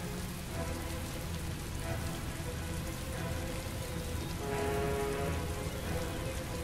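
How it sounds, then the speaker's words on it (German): Steady, heavy rain pours down in the video game Heavy Rain, a dense continuous wash of drops beating on surfaces that stays loud and even throughout, with no voices over it. "Der Regen ist so laut."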